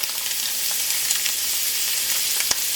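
Food frying in a hot pan gives a dense, steady sizzle with a few small pops and crackles, close and continuous, with no voices.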